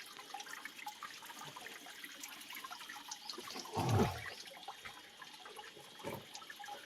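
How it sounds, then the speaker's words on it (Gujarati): Natural cold spring water wells up from the ground in a forest near a hillside temple, giving a faint, steady trickle with one brief, louder gush midway. "જો ક્યાંથી પાણી આવે, જમીનમાંથી પાણી આવે છે"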